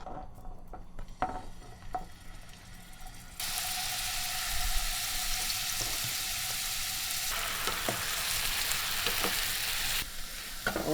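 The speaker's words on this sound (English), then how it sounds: "So I just put a couple tablespoon oil in the pan and high heat. We're gonna add this into it and cook them." Meatballs frying in a couple tablespoons of oil in a pan over high heat, a quiet start with a few clicks, then a steady loud hiss of sizzling oil with occasional utensil taps.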